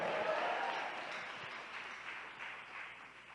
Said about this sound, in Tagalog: pumalakpak ng malakas, magsabi ng praise the Lord